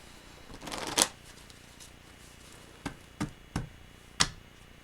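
A deck of angel therapy oracle cards is shuffled up close: one long riffling burst, then a pause and four quick, crisp snaps as the cards are cut and tapped together. No one speaks.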